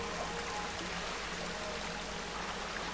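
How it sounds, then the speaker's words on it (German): A waterfall in Darksiders 2 pours in a steady, dense rush of falling water, close and constant with no other sounds. "Außer einem Wasserfall gibt es hier gar nichts."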